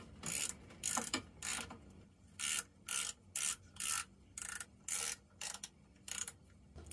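A hand ratchet clicks in short bursts while gently tightening the diaphragm cover bolts on a two-stroke Jiffy ice auger, about a dozen close, crisp ratcheting runs separated by brief pauses.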